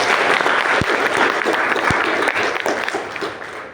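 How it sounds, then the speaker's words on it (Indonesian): An audience at a talk on becoming a professional writer breaks into sustained applause, dense and fairly close, with a couple of sharp thumps and faint voices mixed in. "Wah, tepuk tangan dulu."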